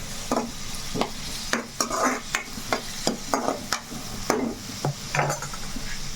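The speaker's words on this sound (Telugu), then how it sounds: "ఇంకొంచెం వేగాలి." Dried fish frying in a pan, a continuous sizzle under repeated close scraping strokes of a utensil against the pan, coming in quick irregular bursts with no talking.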